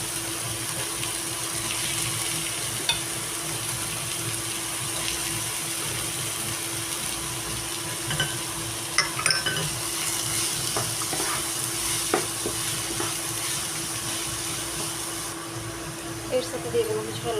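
Chopped onion and diced potato fry for kanda poha, giving a loud, continuous sizzle with stirring scrapes and utensil clicks near the end; a voice may speak underneath.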